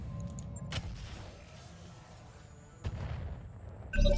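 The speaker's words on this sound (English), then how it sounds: "It's all about that indirect fire." Indirect artillery fire from the video game RogueTech, a BattleTech mod, sounds as a few distant booms and muffled thuds over a low rumbling bed, with a louder hit at the end.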